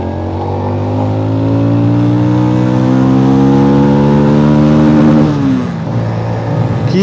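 Keeway K-Light 250V twin-cylinder cruiser motorcycle revs up close and loud, its engine note climbing smoothly through second gear, then dipping briefly at a shift before pulling again.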